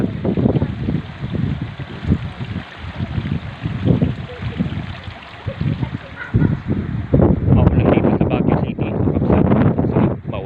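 Strong wind gusts roar and buffet the microphone continuously during a storm in Baguio City, with rushing noise rising and falling throughout.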